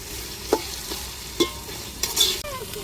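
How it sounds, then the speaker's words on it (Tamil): Ginger garlic paste sautés in a pan with a soft, continuous sizzle, broken by a few light spoon taps and stirring scrapes, close and quiet with no talk. "இஞ்சி பூண்டு நல்லா பச்சை வடை போகிறக்கட்டியும் நல்லா வதக்கி விட்டுக்குருவோம்"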